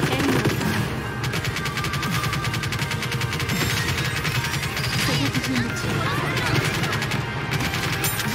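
Rapid automatic gunfire from the video game Nikke rattles continuously in dense bursts, loud and close, with game voice lines spoken over the shooting.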